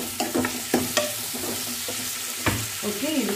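Two tomatoes frying with onions in a pan for ginger kurma, a bright hiss of sizzling oil broken by several stirring scrapes and taps, near and steady, no one speaking.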